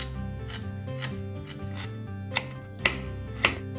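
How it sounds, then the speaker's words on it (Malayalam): Knife chopping pieces of coconut on a board while cooking a papaya curry, heard as a run of crisp close taps with a few sharper louder cuts toward the end, over steady kitchen background. "തേങ്ങാക്കൊത്ത് അരിഞ്ഞ് തുടങ്ങിയിട്ടുണ്ട്"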